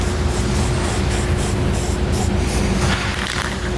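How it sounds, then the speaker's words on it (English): Rust-Oleum spray paint hisses steadily onto bare metal on a 2021 Jeep Gladiator frame during a base plate install, one continuous close, loud spray lasting nearly four seconds with a slight drop near the end. "you're going to take some Rust-Oleum paint. We're going to paint that bare metal to prevent any rusting later on."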